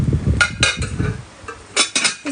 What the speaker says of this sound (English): This is a Tupperware glass casserole.